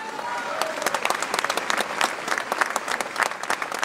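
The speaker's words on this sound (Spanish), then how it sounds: "Ese aplauso é para vos." A crowd at a tribute event in Sillobre for Sito Sedes bursts into lively applause, a close, dense patter of many hands clapping with no break for about four seconds.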